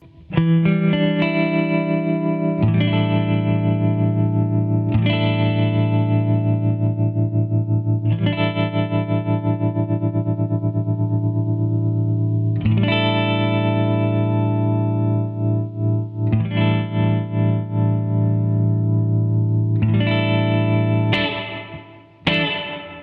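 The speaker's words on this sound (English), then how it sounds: "we've got controls for the rate, depth, level of the reverb, and overall output level of the pedal" Electric guitar played through a reverb pedal with rate, depth, reverb level and output controls: loud, sustained chords that ring out and change every few seconds, with no talking.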